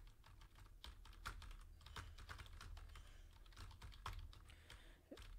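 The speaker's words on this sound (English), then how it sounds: "see, typing is perfectly fine." Typing on a computer keyboard during a remote desktop session: rapid, irregular key clicks in short bursts with brief pauses, close and quiet over a low background hum.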